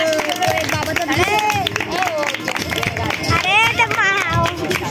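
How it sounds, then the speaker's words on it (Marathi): A community felicitation ceremony held by a Badgujar society panch committee, where an audience claps steadily to welcome the guests, with the crowd's applause blending into loud hall babble and voices throughout. "टाळ्या वाजून स्वागत करायचं सगळ्यांनी."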